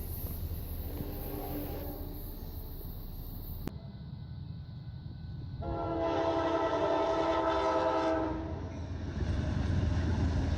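Amtrak Coast Starlight passenger train passing near Springfield, Oregon, its steady rolling rumble joined by a loud sustained horn that fades and returns, the roar swelling as the cars draw close; no voices.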